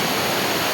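Catherine waterfall in Kotagiri, a brief burst of loud, steady rushing water with a dense, even roar and no voices.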